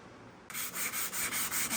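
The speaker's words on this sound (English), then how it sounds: "just a little bit of finish sanding here" Hand finish-sanding on a pine and walnut bookshelf: quiet at first, then close, rhythmic back-and-forth rubbing strokes, about eight evenly spaced passes in quick succession.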